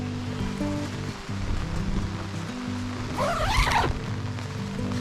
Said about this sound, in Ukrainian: йде дощ. І що він цілу ніч.